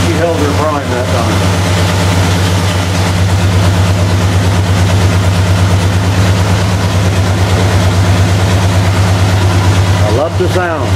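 An old tractor engine running after a start, settling into a loud, steady, low rumbling idle close by, with a voice briefly heard at the start and near the end.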